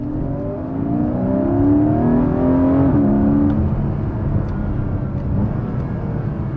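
A Porsche Cayman GTS 4.0 engine revs hard and climbs in pitch through a gear, then drops briefly at a shift before pulling again, loud and close.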